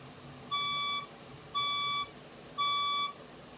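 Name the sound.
fire alarm going off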